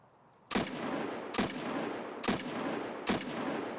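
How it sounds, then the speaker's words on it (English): MP7 submachine gun fire in Escape from Tarkov: four separate loud bursts roughly a second apart, each a sharp crack followed by a sustained rumbling tail, with no talk. "he's shooting a scav"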